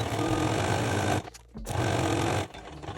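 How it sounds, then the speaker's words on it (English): A sewing machine stitching along a dress bodice neckline and placket: loud, close, steady rapid mechanical whirring in two long runs separated by a brief pause, no talking. "so now we are going to stitch along this whole neckline and placket using a 6mm seam allowance."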